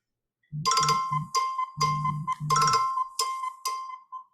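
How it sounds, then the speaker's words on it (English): A phone ringtone plays a bright melodic electronic tune in short bursts, loud and close, repeating over about four seconds with no talking. "it's Anthony's ringing me now"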